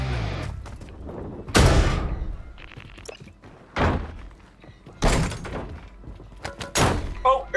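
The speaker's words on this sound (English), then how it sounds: "Oh, airstrike." Airstrike explosions land in a Warzone plunder match: several heavy, loud booming impacts arrive separately, each with a sharp onset and a rolling tail, with some talk in between.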